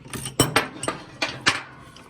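A ratchet working a subframe bolt loose on a Mercedes 107 SL, heard as a handful of sharp metallic clicks and clinks in an uneven rhythm, close and fairly clear with no talking.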